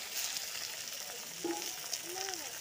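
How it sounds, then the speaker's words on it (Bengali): Meat frying in a pan with onions and chillies, a soft steady sizzle close by, with faint stirring movements and a few brief squeaks over the hiss. "মাংস দিয়ে লাড়াচাড়া করছে"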